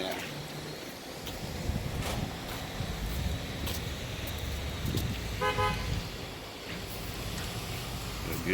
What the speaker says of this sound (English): UPS guy out here blowing his horn like he ain't got no sense